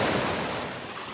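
Popolopen Creek near Fort Montgomery, New York, rushing in a broad, steady wash of flowing water, close and loud and gradually easing slightly, with no voices.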